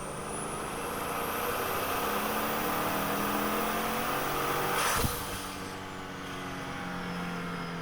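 A twin-turbo Chevrolet Tahoe accelerating hard, with a steady, loud roar of engine and turbo, a brief sharp burst around the middle, then a slightly quieter cruise.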